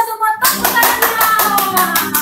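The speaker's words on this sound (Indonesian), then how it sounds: "Semua tepuk tangannya!" Children clapping their hands together in a steady, rhythmic beat of about a dozen claps, loud and close, starting after a brief pause during an online kids' church service.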